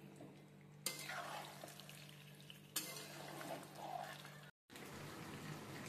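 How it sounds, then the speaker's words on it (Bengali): Chicken with spices and Kashmiri red chilli powder being stirred and fried in a pan over a medium flame for Dak Bungalow chicken, with steady sizzling, scraping stir strokes and a brief gap near the end. "এবার ভালো করে মিশিয়ে আমি মিডিয়াম ফ্লেমে কষিয়ে নিচ্ছি।"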